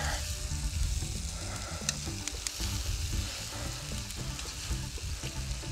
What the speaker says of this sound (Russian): И добавляем сразу сюда и лук, и морковку. И это все тоже будем обжаривать немножко.